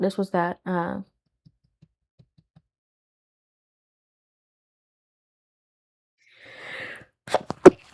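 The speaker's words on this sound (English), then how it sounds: "oh, excuse me, I had to sneeze." One sharp sneeze bursts out after a stretch of near silence, with a bit of talking at the start.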